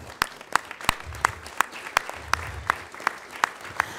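A council meeting audience gives slow, rhythmic applause, with sharp, evenly spaced single claps about every third of a second that sound near and fairly loud against a quiet room.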